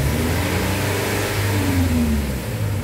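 A Toyota Innova Reborn engine revs steadily, loud and close, with a rising and falling mid-range drone held throughout.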